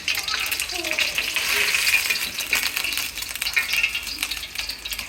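An egg frying in hot oil in a pan for a Thai dish, loud crackling and spattering sizzle held close and steady throughout, with occasional pops and a brief scrape of a utensil.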